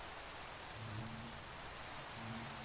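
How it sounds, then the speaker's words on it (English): Steady rain falls in the Minecraft video game, a dense soft hiss that holds evenly throughout at low volume, with faint low tones briefly showing beneath it and no voices. "It's raining."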